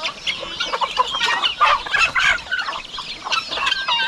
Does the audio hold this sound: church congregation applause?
no